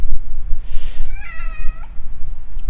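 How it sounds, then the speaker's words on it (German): A black striped cat meowing in The Evil Within: The Assignment DLC, a short rising meow preceded by a soft breathy sound, over a low rumbling game ambience. "Noch so eine schwarze Katze mit Streifen."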